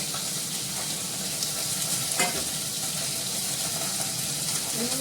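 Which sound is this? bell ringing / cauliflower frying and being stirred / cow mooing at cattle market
cauliflower frying and being stirred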